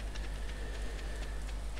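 Rain in the farming game Stardew Valley, a steady, even hiss of falling drops with faint patters, continuous throughout and fairly quiet.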